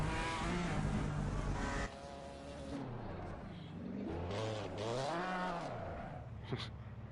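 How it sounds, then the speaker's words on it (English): A race car in Assetto Corsa Competizione spins a donut in the pit lane, its engine note rising and falling in sweeping arcs as the revs climb and drop, loud and steady with no talk over it. "And goes for a donut in the pit lane."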